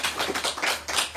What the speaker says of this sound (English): One clapping for him.